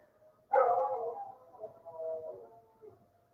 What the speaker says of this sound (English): sirens and dogs howling